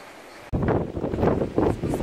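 Strong wind buffets the microphone on a descent toward Milopotamos beach in Pelion, Greece, a loud, gusty rumbling roar that bursts in suddenly after a quiet half second and keeps surging.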